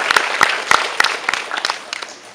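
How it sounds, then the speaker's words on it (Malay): An audience of university students at a religious talk on love after marriage applauds. The clapping is loud, close and steady for about two seconds, with sharper individual claps standing out from the wash. "Satu lagi tepukan untuk diri sendiri."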